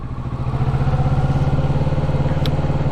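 A motorcycle engine with throttle gently applied, a close throbbing mid-pitched chug that swells slightly and pulses evenly, with no one talking.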